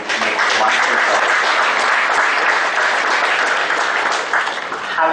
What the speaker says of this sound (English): A round of applause for yourself for having made wonderful choice.